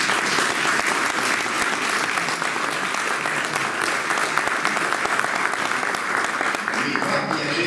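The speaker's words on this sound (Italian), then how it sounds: "Mi fa piacere che non ho dovuto darvi l'input dell'applauso, l'avete fatto subito voi spontaneamente" A crowd gathered for a Giro d'Italia 2020 stage presentation in Mileto breaks into spontaneous applause, sustained and steady throughout, with loud, dense clapping filling the hall.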